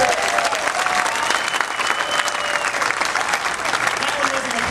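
A rally crowd applauds loudly and steadily, a dense wash of clapping that holds at full strength throughout with no speech over it.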